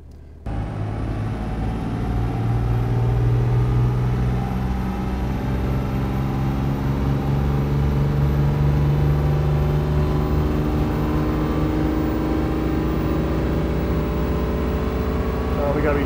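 A diesel truck engine roars steadily on a dyno run toward about 3,200 RPM, a loud, sustained drone with rising tones that starts abruptly and holds for the whole pull.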